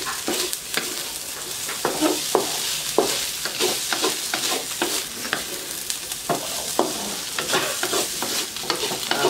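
Lechon sisig sizzles and fries loudly in a pan while a utensil stirs it, with repeated scraping strokes over the constant crackle, close up and with no talking.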